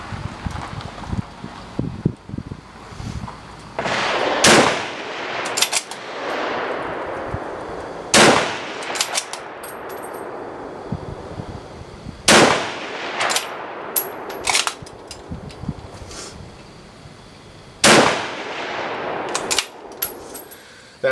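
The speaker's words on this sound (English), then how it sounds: "That's how quickly you can fire with this rifle." Rapid aimed fire from a Lee Enfield No4 Mk2 bolt-action rifle outdoors: about eight loud, sharp shots spaced a second or few apart, each trailing a long echo, with wind noise and bolt-working sounds between them.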